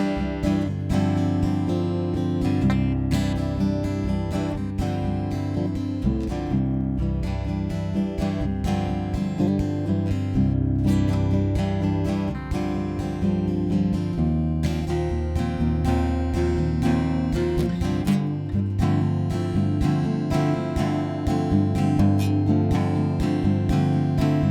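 A guitar in an open C-based tuning is strummed and picked continuously with dense, ringing chords and sustained bass notes, loud and close throughout with no talking.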